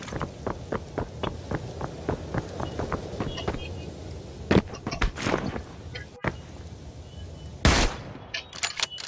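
Gunfire in Ring of Elysium comes as a quick run of evenly spaced shots, then a few louder, sharper cracks, a gap, and a final strong blast that lands the headshot.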